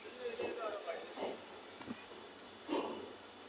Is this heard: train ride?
yes